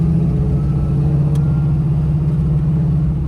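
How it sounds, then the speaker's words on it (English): A black 1978 Pontiac Trans Am with a T-10 four-speed drones along at steady engine load, its low engine hum continuous and loud throughout with no talking. "Black Trans Am, a little bit of power steering noise"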